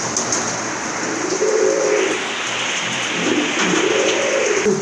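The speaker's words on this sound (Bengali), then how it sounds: "এখানে কিন্তু আরেক জোড়া কবুতর আছে" Running pigeons coo in low, rolling phrases, several calls one after another, loud and close over a faint background hiss; nobody speaks.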